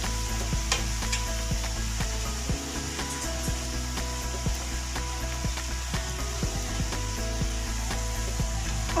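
Shredded cabbage and capsicum frying with carrots in a pan, a loud continuous sizzle with repeated scraping and stirring strokes close by.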